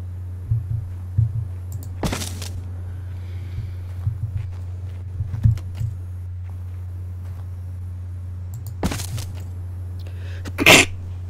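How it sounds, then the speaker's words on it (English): A few sharp, sudden bursts stand out from a steady low hum, consistent with sneezes, with soft movement noises between them. "I have the weirdest sneeze in the world"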